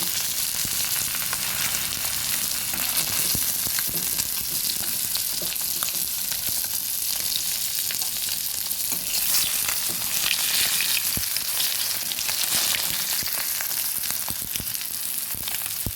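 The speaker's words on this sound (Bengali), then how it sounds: "মাছগুলো উল্টে পাল্টে ভেজে নিয়েছি এবার তুলে নেব" Pieces of shol fish, the head included, frying in hot oil in a pan, a dense, steady sizzle with crackles and spits that holds at an even level throughout with no talking.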